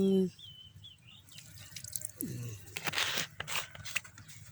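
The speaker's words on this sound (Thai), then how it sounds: "เติมน้ำหน่อยนึง" Water poured into a cooking pot of food with chillies and lemongrass, a short trickling, splashing pour, with birdsong faintly audible in the background.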